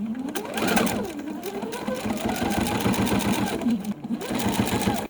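A sewing machine stitches a binding strip down onto a faux chenille quilt, its steady needle chatter running continuously and close-up with brief changes in speed, no talking over it.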